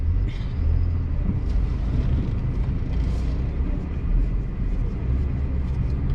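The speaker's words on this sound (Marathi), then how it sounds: "जरा इथून ट्रॅफिक क्लिअर होऊ दे, मग मी जरा गाडी रस्त्यावर घेईन." A car idles and edges toward a busy road in the town of Vengurla, a steady low engine rumble with passing traffic, loud and continuous throughout.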